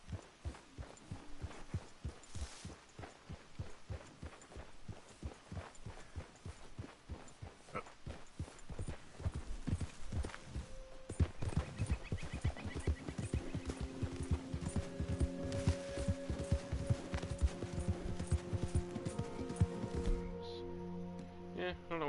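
Horse hooves clip-clopping in Red Dead Redemption 2, steady rhythmic thuds that pick up pace and grow louder, with a low hum and tonal game sounds layered underneath and a voice speaking at times.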